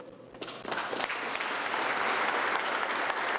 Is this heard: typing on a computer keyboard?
no